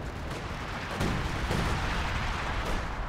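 Artillery fire in the Company of Heroes 2 video game, a continuous rumbling barrage of booms and blasts with a sharper impact about a second in, loud and sustained with no talk.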